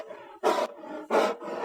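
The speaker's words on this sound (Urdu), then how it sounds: "شیر ہے" Two loud, broad roars of a lion, each lasting about a quarter second, burst out over a steady background of noise in a kids' animal sound guessing game.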